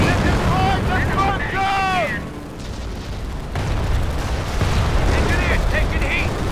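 Gunfire and explosions fill a Company of Heroes battle on Omaha Beach as a dense rumble of booms and shots, with shouting voices rising over the din.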